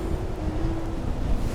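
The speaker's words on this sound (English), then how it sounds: "the wind is blowing pretty strong" A strong wind blows across the coast at Cape Disappointment, Washington, heard as a brief, steady rush and low rumble buffeting the microphone.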